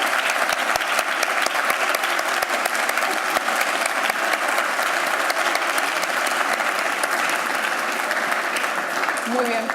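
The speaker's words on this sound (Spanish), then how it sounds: "Un fuerte aplauso." Sustained audience applause at a live event, dense and steady clapping from a crowd throughout, with scattered sharper claps standing out near the front.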